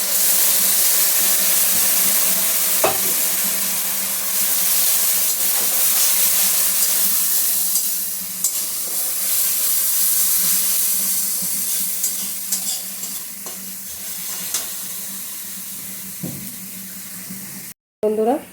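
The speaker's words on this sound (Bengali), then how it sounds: "এখন একটু জল দিয়ে মশলাটাকে কষিয়ে নিচ্ছি।" Spice paste for egg korma cooking in a pan with a splash of added water, giving a steady close sizzle and bubbling with occasional stirring scrapes, continuous throughout.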